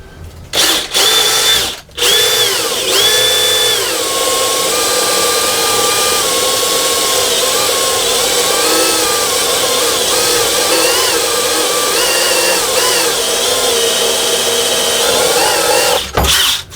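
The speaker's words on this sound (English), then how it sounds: "let's go in those corners and drill halfway or a little bit more than halfway through" A power drill with a Forstner bit whines steadily and loudly for many seconds as it bores through wood, the motor pitch wavering slightly under load before stopping.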